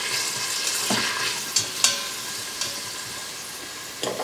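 Minced onion, about one large onion, sautés in oil inside an Instant Pot, giving a steady close sizzle with a few sharp clinks of a utensil stirring against the pot.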